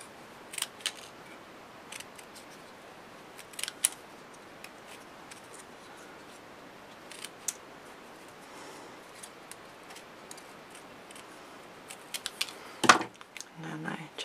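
Scissors snip scrapbooking paper in a few sharp, light cuts spread across a quiet tabletop scene, with one louder clipped cut near the end and faint handling sounds between.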